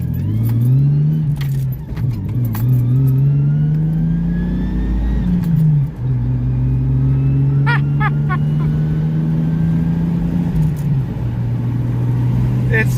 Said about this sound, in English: It just goes, it accelerates so much easier now